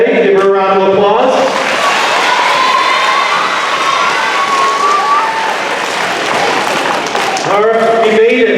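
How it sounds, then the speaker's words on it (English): Applause from an assembly crowd at a school year-end recognition event, sustained and loud with cheering mixed in, bracketed by a voice speaking briefly before and after. "Give her a round of applause."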